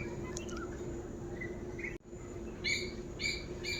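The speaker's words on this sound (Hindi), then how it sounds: "और ये सुने पक्षियों की आवाज़। आजकल पक्षियाँ बहुत ज़्यादा बोलती हैं। कोयल, कोयल बहुत बोलती है।" Birds calling at dusk in a village, with a koel among them: scattered chirps and short bright calls over a low steady background, growing clearer with a few repeated calls near the end.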